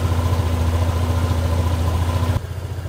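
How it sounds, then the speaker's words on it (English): A motorbike engine idles steadily during an emissions pollution test, a close, loud, even low throb with a constant hum that drops slightly in level near the end. "start the engine in guarantee mode until the engine temperature is greater than"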